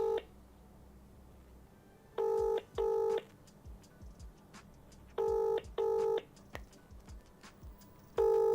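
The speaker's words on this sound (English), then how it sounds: "This person's phone is currently unavailable." Telephone dialing on a call that is not getting through: pairs of short, loud electronic tones repeat at intervals over a quiet background hum, with no voices.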